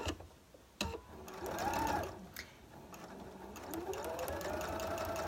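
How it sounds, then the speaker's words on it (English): A sewing machine stitches fabric along a marked line, its motor whirring in short bursts that rise and fall in speed, with a clack at the start and no talk. "I'm sewing right on that line that I created."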